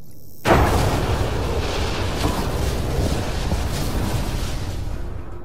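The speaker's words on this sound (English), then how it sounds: "fast forward to a ship crashing into an asteroid crashing into a moon." A ship crashes and explodes in the Mass Effect Andromeda video game, a sudden loud boom after near silence that rolls into a long, rumbling roar and slowly fades.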